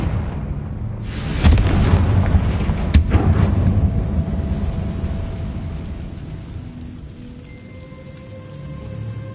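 In the video game Hogwarts Legacy, a Confringo fire spell goes off as a booming explosion. Two sharp blasts land close together, followed by a long crackling, rumbling tail that slowly fades under faint ambient tones.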